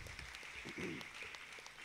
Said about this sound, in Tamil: நாம் அனைவரும் கைத்தட்டி இறைவன் நன்றி சொல்லுவோம்